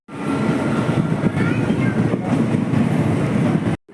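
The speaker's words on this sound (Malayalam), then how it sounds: "ഇപ്പോൾ ഇവിടെ ഇരുന്ന് ഇങ്ങനെ ട്രെയിനുകൾ അങ്ങോട്ടും ഇങ്ങോട്ടും പോകുന്നത് നോക്കിക്കൊണ്ടിരിക്കുകയാണ്" Trains rumble past a railway station platform, a loud continuous rolling roar with faint clatter that cuts off abruptly near the end.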